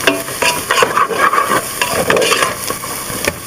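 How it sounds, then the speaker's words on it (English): Mushrooms saute in a pan for a chicken pot pie and are stirred with a wooden utensil, giving loud, close scraping strokes in an irregular rhythm over a continuous sizzle. "Give these a good stir. Saute these until they're soft or slightly soft."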